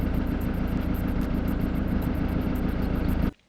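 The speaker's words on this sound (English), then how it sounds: "However, if I add just a few revs on." A Ford Mondeo engine, which has loose exhaust hangers, holds raised revs with a loud, steady, pulsing drone close by, then cuts off abruptly at the end.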